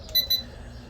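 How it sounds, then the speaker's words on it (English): Two short, high electronic beeps in quick succession from a Holy Stone HS340 mini drone's remote controller signalling headless mode, fairly faint against a quiet background hum. "the controller will keep making that beep as long as you're in headless mode"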